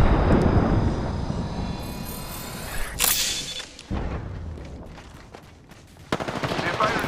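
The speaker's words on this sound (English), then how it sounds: "They're firing on me." Gunfire in the video game Apex Legends: sharp bursts crack out near the three, four and six second marks over a steady roar of engine-like background noise, with no one speaking.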